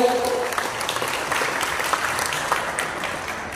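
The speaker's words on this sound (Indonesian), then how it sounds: "Tepuk tangan dulu boleh" Audience applause fills a press conference for the Iswahjudi Air Force Run 2023, steady dense clapping from a crowd that holds for several seconds without fading, with no voice over it.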